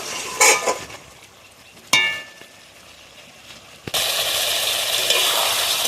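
Chicken pieces sautéed in a pan for a malai curry, a broadband sizzle that starts and stops with scraping clinks, then settles into a steady loud frying hiss toward the end.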